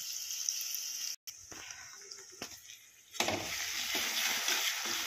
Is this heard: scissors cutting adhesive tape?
no